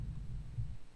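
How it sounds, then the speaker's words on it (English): A low, muffled thump repeating in a soft throbbing pulse, deep and distant-sounding, like a heavily pitched-down kick drum; a film camera shutter sound transposed far down. "Kind of a distant thumping kick."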